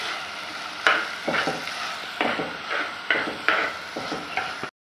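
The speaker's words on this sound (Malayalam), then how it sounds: "അങ്ങനെ തകൃതിയായിട്ട് ഇളക്കിക്കൊണ്ടിരിക്കുക കേട്ടോ, കൈ വിടാതെ അങ്ങ് ഇളക്കിക്കൊണ്ടിരിക്കുക" A spoon stirs onions with crushed ginger and garlic in a hot pan for a mushroom roast, rhythmic scraping strokes about once a second over a steady soft sizzle, close and fairly quiet, with no voices.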